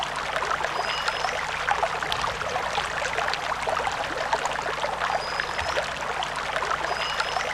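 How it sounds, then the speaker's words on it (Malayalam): A stream flows in hilly country with a constant dense rushing and babbling of water, steady and fairly close, with faint birdlike chirps now and then and no talk. "അരുവികൾ ഒഴുകുന്ന ശബ്ദം ഒന്ന് കേട്ടാലോ?"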